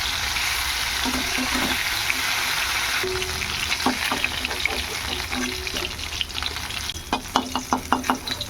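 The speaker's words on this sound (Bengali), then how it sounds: "এগুলো এখন ভেজে নেবো, কড়াইতে তেল বসিয়ে দিয়েছি।" Tilapia and rohu fish fry in hot oil in a wok, giving a steady close sizzle with intermittent crackles and spatters that grow sharper toward the end, with no talk over it.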